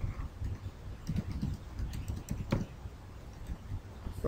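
Keys clatter on a computer keyboard as a project name is typed in, a run of quick, light taps with a few louder strokes over a soft background hiss, with no talking.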